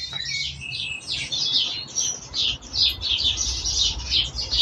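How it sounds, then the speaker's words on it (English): Baby starlings and baby jackdaws chirping outdoors in a dense, continuous chorus of high, squeaky calls, close and busy, over a low background rumble. "There are baby starlings, there are baby jackdaws."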